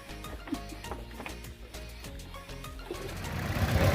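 A long-tail boat engine approaches to tow a raft on the water near Chanthaburi, Thailand, a steady rhythmic chugging that grows louder and closer toward the end.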